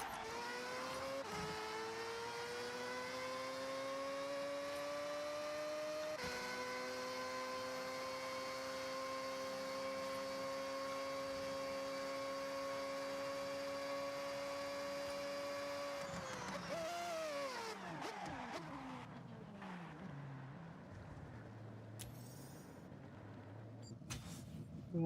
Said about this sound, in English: One of the best sounding cars, definitely.